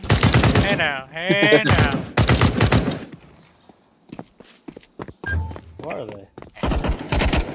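Gunfire in the video game Counter-Strike 2 on the Inferno map, loud bursts and single shots scattered through the clip, mixed with footsteps and players talking over it.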